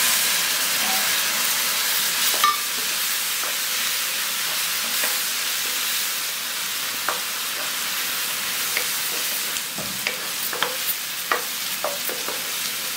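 Ginger garlic paste sautéing in a pan with browned onions and turmeric, a steady close sizzle and hiss with scattered ladle scrapes and small pops throughout.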